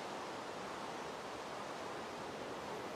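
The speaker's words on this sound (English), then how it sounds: "It is pouring." Heavy rain pours down steadily in the Minecraft video game, a dense, even hiss of broadband noise that is constant and fairly loud throughout, with no voices.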